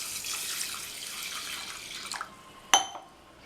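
One cup of raw white rice is swished and rinsed with water inside a pressure cooker, a soft sloshing that fades before a single bright metallic clink; no voices.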